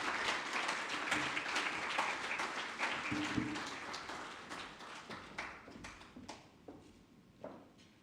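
Audience applause at a sustainable finance curriculum launch, dense clapping from a crowd that gradually thins and fades into scattered individual claps.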